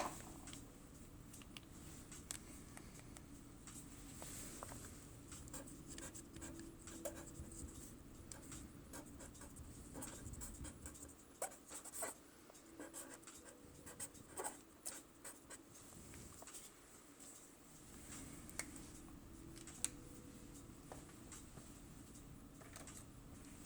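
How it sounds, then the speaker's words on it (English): A dry erase marker on a whiteboard, a long run of faint squeaky strokes and scratchy taps that start and stop irregularly, quiet and close, with no talking. "I'm just going to write over here in dry erase."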